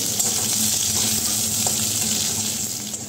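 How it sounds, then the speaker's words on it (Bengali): Chopped onion and garlic fry in a pan with a steady, even sizzle that holds throughout, close and loud, with no talking. "দিয়ে একটু লাল করে ভেজে নেব।"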